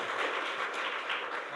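Audience applause after a Carnatic concert of Dikshitar compositions, a steady dense patter of clapping from a crowd, moderately loud and continuous across a short stretch.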